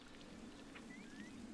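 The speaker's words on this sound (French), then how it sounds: "La pluie arc-en-ciel est en train de faire refleurir les arbres." Rainbow rain falls in the video game Chicory: A Colorful Tale, a faint, steady patter of drops with no voices over it.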